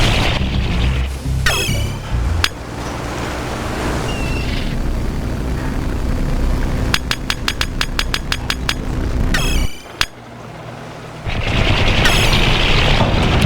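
Gunfire and explosions in the RTS game 9-Bit Armies: loud booms, sharp single shots and a rapid machine-gun burst of evenly spaced cracks, with synthetic game effects between and no talking.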